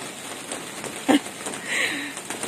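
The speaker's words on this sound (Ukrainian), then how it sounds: "тому що вже в нас дощ йде" Steady rain falling outside a greenhouse garden, a soft continuous hiss with a brief louder patter near the middle, heard fairly close and alone.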